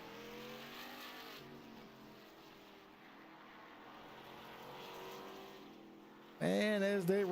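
Stock-style race cars run laps in a fantasy ARCA series racing video game, with a sustained whining engine drone that swells slowly and then jumps to a louder, closer revving pass near the end.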